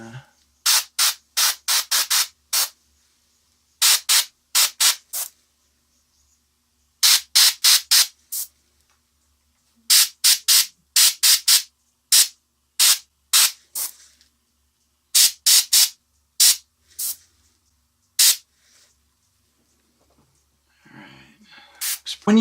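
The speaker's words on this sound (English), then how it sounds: "When you hear me do those little sprays off camera, I'm not spraying ink. I'm actually just spraying air." An airbrush fires short bursts of air to clear its nozzle while painting a miniature turtle, roughly two dozen sharp hissing sprays in quick clusters separated by silent gaps.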